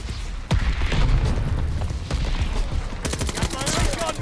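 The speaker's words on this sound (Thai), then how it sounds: "โอ้โหระเบิดยังบึ้มบึ้มบ้มขนาดนี้เลยนะ" Explosions and gunfire in Call of Duty: Vanguard, with heavy booms and rapid crackling bursts of shots rolling through a dense battlefield din, ending in a fast volley of gunfire.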